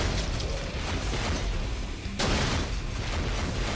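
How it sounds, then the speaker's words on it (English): Explosions boom in the first-person shooter Painkiller: Hell & Damnation, a dense, loud wash of blasts and rumbling debris with a fresh burst hitting partway through. "Explosions!"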